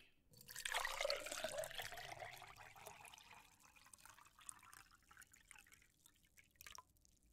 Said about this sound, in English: Here, let me pour you some tea.